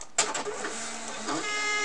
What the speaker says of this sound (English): we're going to send this ZPL data over to our printer